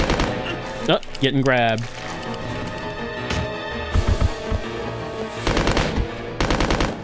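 Uzi fire in the video game Resident Evil Code: Veronica, rapid bursts of automatic gunfire in short clusters with game sound effects, while a voice speaks briefly early on.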